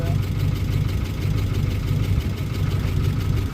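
An old engine idles in a steady low rumble that holds an even level throughout, close and fairly loud.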